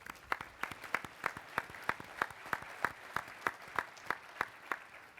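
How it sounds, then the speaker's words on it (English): Faint, sparse clapping at a presentation on project measures, with a few sharp claps landing in a steady, regular rhythm, about three per second, over a quiet room. "let's give everybody who participated a real round of applause here"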